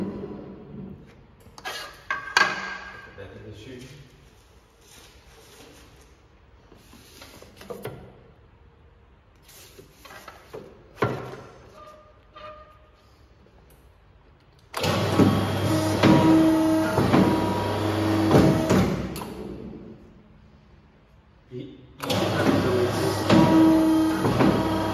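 A programmable paper cutter with a touch display makes repeated 10 mm cuts. Scattered quiet clicks and handling noises come first, then two loud, sustained mechanical runs of clattering, whirring machinery.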